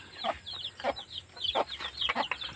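Chickens cluck and murmur close by on a backyard coop, several short repeated clucks in irregular bursts, alone, with no talk.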